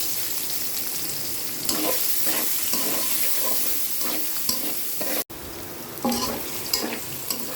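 Garlic, onion and green chili fry in hot oil with a loud, continuous sizzle, and a utensil scrapes and stirs nearby, close up with no one speaking.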